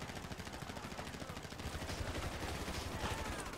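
Rapid gunfire crackles through a bank heist in a video game, bursts of shots repeating densely and loudly for several seconds amid the chaos of the firefight.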